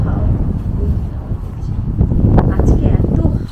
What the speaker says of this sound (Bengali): প্রচুর হাওয়া, জানেন দু দিন এত হাওয়া,